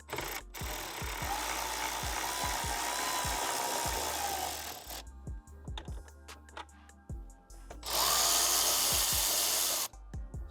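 A power drill backs screws out of the instrument panel of a turbo Buick Grand National. Two long, close whirring runs are separated by a quieter pause with a few faint clicks and knocks, and no one speaks.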